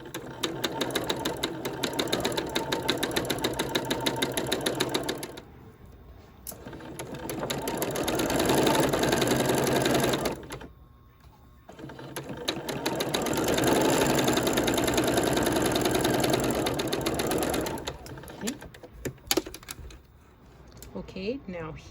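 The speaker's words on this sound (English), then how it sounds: "we're going to stitch all the way across." A sewing machine stitches across fabric in long continuous runs of rapid mechanical chatter, pausing briefly twice between bursts, close and fairly loud.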